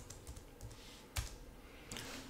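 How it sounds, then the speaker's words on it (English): Quiet keystrokes on a computer keyboard, a few scattered soft taps and one sharper key press, close and faint with no talking. "I'll just type in ba.com."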